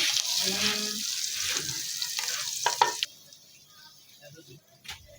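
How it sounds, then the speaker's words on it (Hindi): Hot tempering oil poured over chana dal hits with a loud crackling sizzle that fades after a few seconds, followed by quieter kitchen clinks. "अब ऊपर से ये तड़का लगा दें।"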